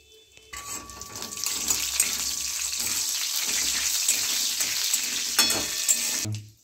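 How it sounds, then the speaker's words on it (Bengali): Whole cumin seeds and two dried red chillies hit hot ghee in a pan, giving a loud, steady sizzle that swells quickly and holds for several seconds before cutting off, with no talk. "গোটা জিরে ফোড়ন দিলাম, দুটো শুকনো লঙ্কা ফোড়ন দিলাম"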